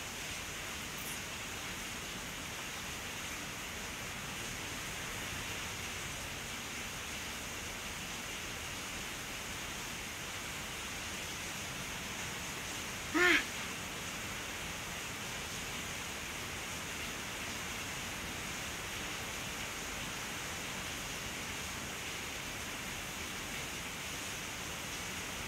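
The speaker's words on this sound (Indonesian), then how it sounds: "Hujannya gede banget guys" Heavy rain falls in a steady, unbroken wash of hiss throughout, with one brief sharp knock partway through and no talking.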